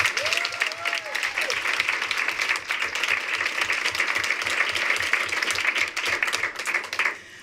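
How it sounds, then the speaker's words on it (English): A school board meeting audience breaks into sustained applause, dense crowd clapping that holds steady for about seven seconds before tapering off, with faint voices mixed underneath. "So let's also give them a round of applause too."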